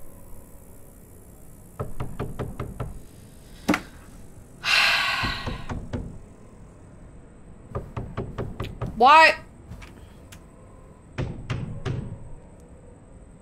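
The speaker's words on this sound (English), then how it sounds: "That is the angriest knock." Heavy, forceful knocking on a door in the horror game Tattletail, several rapid bursts of loud thuds separated by pauses, with a gasp, breathy sounds and a brief spoken word in between.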